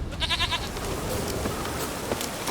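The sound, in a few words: goat bleating in video game Witcher 3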